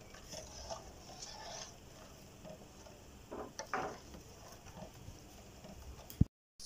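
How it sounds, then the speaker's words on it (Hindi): A spoon stirs a homemade chocolate mixture of cocoa powder in a pan over a medium flame, with soft scraping and light clinks in an uneven rhythm, close but quiet, ending in a sharp knock. "तो कोकोआ पाउडर ऐड करने के बाद अच्छी तरीके से मिक्स कर लेंगे। आहिस्ता आहिस्ता से हम लोग मिक्स करेंगे।"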